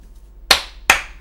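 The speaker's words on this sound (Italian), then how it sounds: "Un applauso al Cavalli" Two sharp hand claps about half a second apart, close and loud, in a quiet room with a faint low hum beneath.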